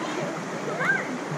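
Water flowing in Lytle Creek, California, a constant broadband rush heard close by, with a brief faint whistle-like tone partway through.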